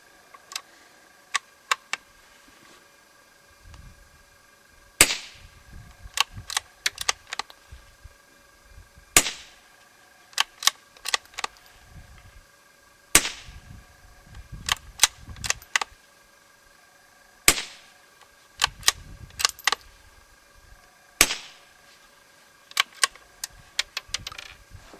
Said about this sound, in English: We're going to try it with the 22 rimfire can. Going to fire 5 rounds.